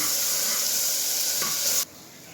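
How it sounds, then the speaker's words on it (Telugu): Ginger garlic paste frying in a pan for bagara rice makes a loud, even sizzle and hiss, with a stirring scrape near the end before it suddenly cuts out. "ఇది మనకి పచ్చి వాసన వెళ్ళేంత వరకు మనం ఫ్రై చేసుకుందాం"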